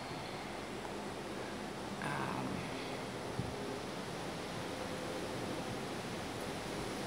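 A river running high and swollen after heavy rain, a steady broadband rush of flowing water close by, continuous and even throughout with no voices.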